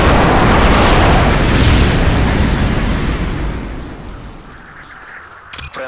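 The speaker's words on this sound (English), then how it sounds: "Friendly airstrike on the way." A friendly airstrike in a video game lands as a loud, close explosion, a broad roaring blast that rumbles and slowly fades over several seconds.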